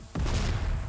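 A weapon blows up in the shooter game Rebound, one loud sudden blast followed by a dense rumbling roll that holds for under a second with no voices.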